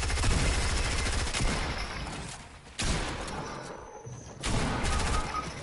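Sustained rapid gunfire in the video game Fortnite, dense bursts of shots rolling almost without pause, briefly dropping off before starting up again loud and close.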